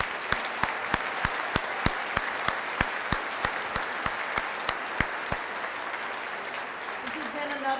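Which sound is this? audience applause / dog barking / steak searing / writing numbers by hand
audience applause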